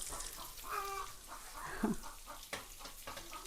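Soft clucking from a few chickens close by as they are fed, with short irregular calls over quiet background noise.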